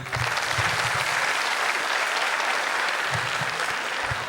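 An audience at a college campus poetry event claps loudly and continuously. The dense applause holds steady from start to finish.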